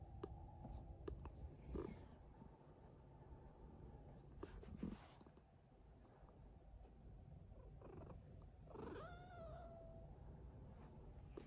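House cats purr softly and give a few quiet meows, with one clearer rising meow near the end, close by in a calm indoor room.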